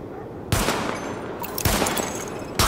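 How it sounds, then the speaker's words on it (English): Bursts of gunfire at highlighted targets on a weapon test range in Tom Clancy's The Division, with three sharp volleys at close range, each trailing into a short rattle, and no voices. "Open fire at the highlighted targets."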